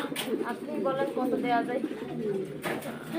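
A pair of Lahori pigeons coos close by on a farm, with repeated soft throaty calls and a voice talking over them.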